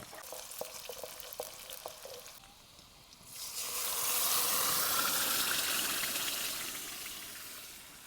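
Garlic greens and leafy greens hit hot oil and erupt into a loud, steady sizzle after some soft clinks, slowly easing off but still frying.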